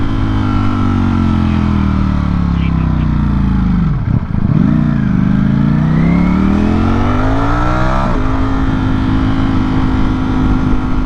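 A motorcycle rides a bumpy road, its engine droning loud and close with shifting revs, a sharp dip and rise in pitch around the middle and clattering jolts from the bumps.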